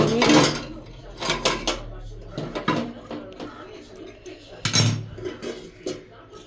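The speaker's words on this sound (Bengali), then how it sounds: "এখানে হচ্ছে খিচুড়ি দাঁড়া একটু নাড়িয়ে দিই খিচুড়ি" Khichdi is stirred in a cooking pot, with scraping and knocking of a utensil against metal in several bursts, close, under someone talking throughout.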